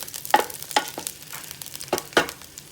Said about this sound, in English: I think my oil is hot enough. I'm just going to put these onions in like this and put it in there